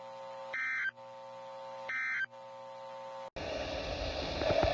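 NOAA Weather Radio warning alarm attention signal test: two short buzzing tone bursts with pauses between them, then a harsher, louder steady alarm tone that holds to the end.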